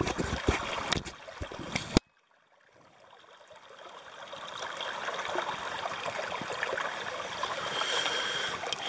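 Creek flowing where people search for agates and thundereggs, heard as a soft, steady trickle and babble of water that rises gradually after a sharp cut from louder handling noise.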